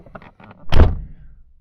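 A car door on a 1995 Ford Falcon GLi closes with one solid, close thunk following a few soft rattling knocks, then the sound fades into quiet.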